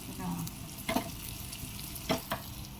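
A brinjal and potato curry sizzles in a hot pan after tempering, with steady frying hiss broken by a few sharp stirring scrapes, close and moderately loud, with no talk.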